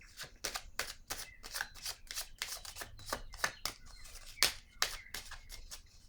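Tarot cards being shuffled and drawn during a reading, a quick run of crisp riffling snaps and flicks, close and fairly quiet, with short pauses between bursts.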